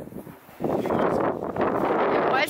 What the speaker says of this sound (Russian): Я надеюсь, что ветер не помешает записать